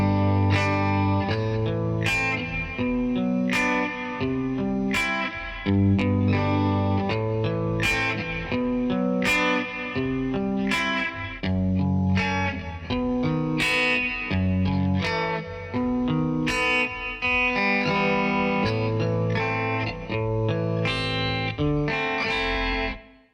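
An acoustic guitar plays the chords of verse 3 of a song in time, with steady strummed and picked notes ringing clearly and alone throughout.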